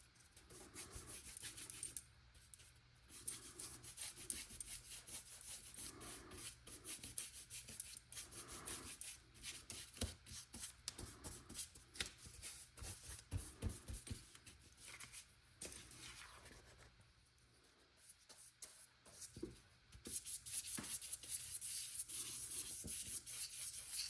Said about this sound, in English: So that was my Scratchy brush